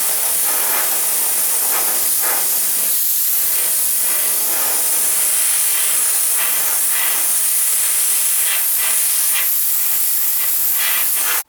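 Continuous loud hiss of steam from a Black & Decker BDH1800SM handheld steam cleaner used on a window, steady and close for the whole stretch with small surges, cutting off abruptly at the end.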